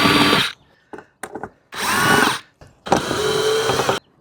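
Bursts of a cordless power drill backing screws out of a Class B van's roof, in three separate whirring runs with short gaps between them, close and loud.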